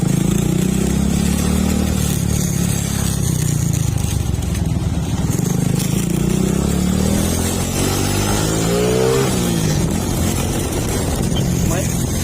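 A Suzuki Raider 150 motorcycle fitted with a Smash 115 gearbox conversion runs during a test, its engine droning loud and steady with a rising rev toward the end, while people talk over it.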